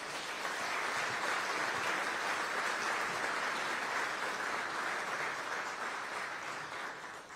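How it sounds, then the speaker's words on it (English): An audience at a city innovation and technology event applauds tech and data center partners, producing a steady, even roar of many clapping hands that holds for several seconds, then tapers slightly at the end, with no talk. "Let's give all of our tech and data center partners a round of applause"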